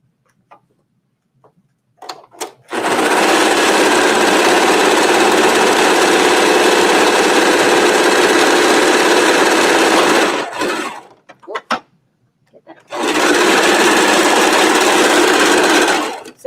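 An overlock sewing machine (serger) runs a test stitch, whirring loudly and steadily in two long bursts, with a few clicks and brief pauses between them.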